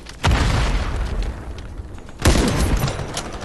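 A sniper rifle in the shooter game Ironsight fires two heavy, booming shots about two seconds apart, each loud and close with a ringing decay.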